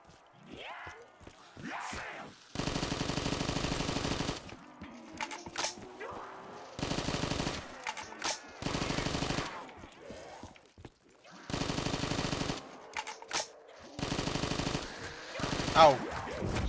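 An AK-74U fires in Call of Duty Black Ops 3 zombies mode, with about six loud sustained automatic bursts of varying length. Quieter gaps between them hold talk and game sounds.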